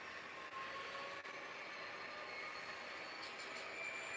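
HO scale model train locomotives pulling away from a roundhouse on a layout, heard as a faint, continuous whirring motor hum with a thin high whine, steady throughout and without talk.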